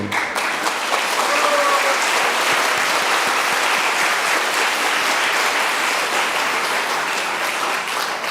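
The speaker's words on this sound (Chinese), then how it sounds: "互咱大家有人来鼓掌者" A church congregation applauds in steady, dense clapping that fills the room, sustained and fairly loud from start to finish with no talk over it.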